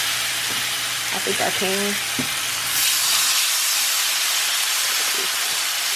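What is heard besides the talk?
pork chops sizzling in butter in a frying pan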